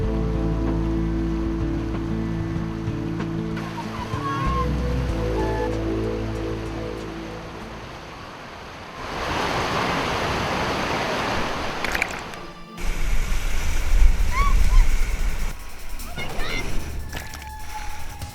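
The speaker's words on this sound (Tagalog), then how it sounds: "Sunod-sunod ang hampas ng malakas na agos" Strong river current rushes over large rocks, a dense loud churning roar that builds toward the end, with voices mixed in at times.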